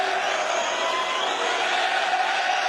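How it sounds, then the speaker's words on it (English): Boxing arena crowd at a featherweight bout roars and chants in a dense, continuous wash of voices, loud and steady throughout. "crowd vociferously chanting"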